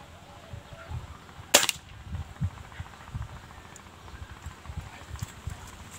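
A single sharp air rifle shot cracks once near the start during scope zeroing at a target, followed by quieter outdoor ambience and faint low handling noises.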